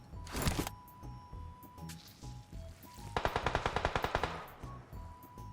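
Gunfire in PUBG Mobile: a loud single blast up front, scattered quieter shots, then a fast burst of about a dozen automatic rounds, close and sharp.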